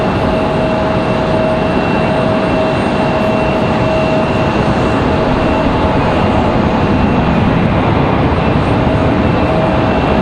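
Aircraft engine noise at Raleigh Durham International Airport, a steady loud broadband roar with a faint tonal whine, sustained without pause, no talking.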